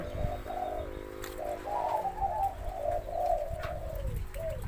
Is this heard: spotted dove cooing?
yes